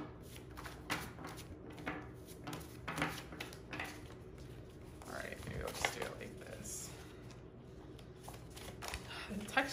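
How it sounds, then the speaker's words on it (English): Playing cards are shuffled by hand with dry skin, giving soft riffling, flicking and tapping bursts that come and go near the microphone. Quiet background sounds and faint murmurs sit underneath. "I'm like having a tough time shuffling these cards"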